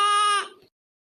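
A goat in a rural village lets out one loud, close bleat that lasts under a second and then cuts off, with nothing else heard.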